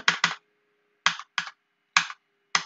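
Single keys pressed on a computer keyboard while saving a bill in Marg billing software: six crisp, close clicks, first a quick double, then spaced singles, with silence between and no voices.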